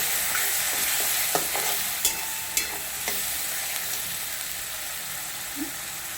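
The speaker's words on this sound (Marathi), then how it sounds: "आता हे चांगलं तेलामध्ये फ्राय करतो" Garlic, ginger, coriander and coconut frying in oil, a continuous close sizzle broken by a few sharp stirring clicks, with no talk over it.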